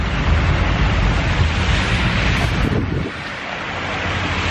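Beach with ocean waves and wind, a loud continuous rush of surf and gusting wind buffeting the microphone, easing slightly toward the end, with no talking.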